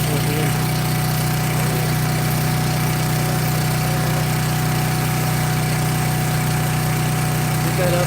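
A log splitter's small engine runs steadily at a field firewood job, giving a constant, fairly loud mechanical drone with a strong low hum throughout and no talk.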